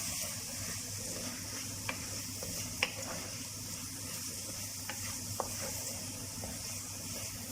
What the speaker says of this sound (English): you add in all your ground spices. Give it a nice stir.